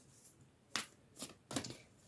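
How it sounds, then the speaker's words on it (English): Oracle cards being shuffled by hand in three quick riffling bursts, close and fairly quiet, with brief pauses between them. "let me also live shuffle some of the ancestor cards"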